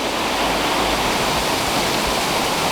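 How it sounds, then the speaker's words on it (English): Rushing river water at a riverside lunch spot in the South Balkans, a loud, steady broadband roar filling the whole moment without any voices. "It's a bit noisy, but with the water, might be hard to pick up the sound on the microphone"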